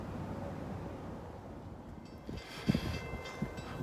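A southbound mixed manifest freight train on a rail line, heard as a steady low rumble with a few louder clanks and thumps near the end, fairly distant and without talk.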